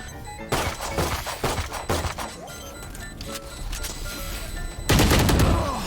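Gunfire from the video game Valorant: a rapid burst of shots rings out, followed by scattered single cracks and impacts, then a loud final volley near the end, with no speech.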